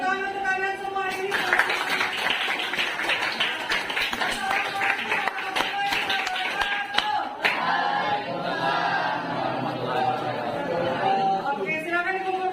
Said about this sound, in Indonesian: Tepuk tangan untuk kalian semua ini.